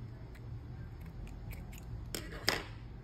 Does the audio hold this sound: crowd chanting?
no